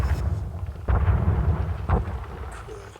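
Booming explosion sound effects rumble through a podcast, two heavy low blasts about a second apart, each with a rolling decay over continuous deep rumble.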